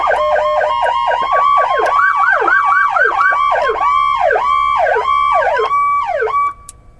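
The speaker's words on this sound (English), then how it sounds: "we have 2 siren speakers that are ran by the Carbide unit, and we have 2 siren speakers that are ran by the PowerCall unit" A Whelen Carbide siren on a fire department Chevy Tahoe wails in rapid rising-and-falling yelp cycles, loud and close, with layered dual tones before cutting off abruptly near the end.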